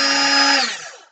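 A power drill spinning a bent, wobbly drill bit at slow speed, a close, whirring motor whine that holds briefly and then winds down as the trigger is released.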